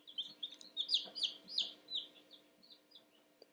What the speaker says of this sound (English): all the rest of them, there's 16 birds next to me in the bin